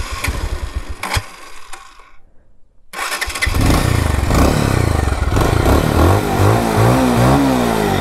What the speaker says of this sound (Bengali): তো শুনতে পারতেছে 10 বছর চালানোর পর একটা বাইকের কি একটা অবস্থা, আওয়াজ এখনো অনেক, আওয়াজ অনেক সুন্দর আছে